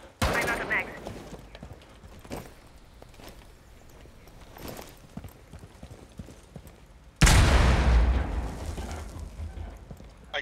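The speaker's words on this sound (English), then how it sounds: "Right, detonate." A breach charge detonates in Rainbow Six Siege, a sudden loud, close blast landing late in the clip after quieter gunfire and footsteps, with players talking over the action.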